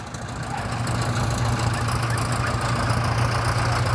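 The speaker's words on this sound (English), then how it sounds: "They're starting to fire up the tractors." Vintage tractors firing up at a transport festival, a steady low engine rumble that builds in the first half second and then holds loud and continuous outdoors, with no talk over it.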